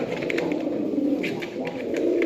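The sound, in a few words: pigeons cooing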